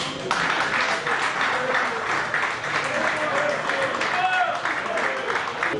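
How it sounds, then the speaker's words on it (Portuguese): An audience at an Angolan celebration for the newly elected president of Kabuscorp applauds an a cappella band, with steady, lively clapping that carries throughout and voices mixed in. "uma salva de palmas"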